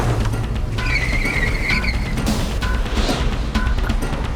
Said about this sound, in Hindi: फिर उसने अचानक एक सुनसान इलाके की तरफ गाड़ी मोड़ दी।